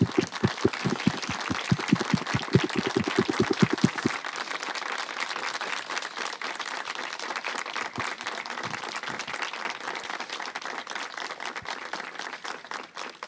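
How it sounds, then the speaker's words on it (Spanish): An audience at a gathering for justice gives strong, sustained applause to remember lost children, dense clapping that starts loud and close with a few distinct rhythmic claps, then continues as a steady crowd ovation. "Les pido de favor que apoyemos con un fuerte aplauso para recordar a nuestros seres queridos."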